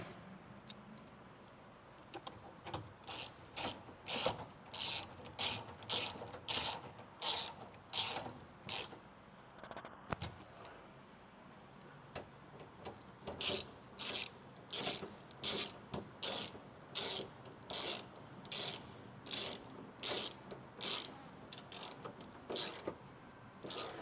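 A hand ratchet tightens the mounts of an S&B 36-gallon grey/fresh water tank under an RV, giving bursts of rapid close clicking separated by brief pauses, with no talk.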